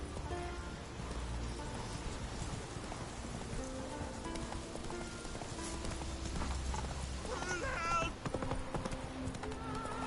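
Roach the horse gallops in The Witcher 3 video game, with steady rhythmic hoofbeats over a constant patter of rain and a brief whinny near the end. A voice speaks faintly underneath.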